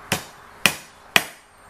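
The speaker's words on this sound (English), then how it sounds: "I use this short handled hammer" A short-handled hammer drives a screw into wood with three sharp, evenly spaced strikes, each a crisp close knock that rings briefly and fades.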